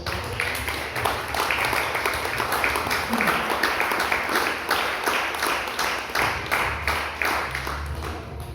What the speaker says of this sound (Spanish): Dele un fuerte aplauso una vez más, Señor.